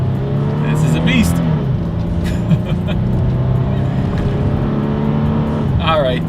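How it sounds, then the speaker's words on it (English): A 2021 Toyota 4Runner SUV engine drones steadily from inside the cabin as it accelerates from a rolling start on a straightaway, with the pitch slowly shifting. Brief squeaks and clicks come through, and a voice talks over the engine. "let's do a quick little acceleration test here in our 2021 Toyota 4Runner, and let's see how quickly we can get this one here up to speed"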